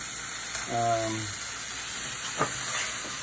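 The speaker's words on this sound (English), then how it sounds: "I'm just sauteing quickly, right?" Mung beans sautéing quickly in a pan give a steady, close sizzle and hiss, with a short voiced sound early on and a faint clatter near the end.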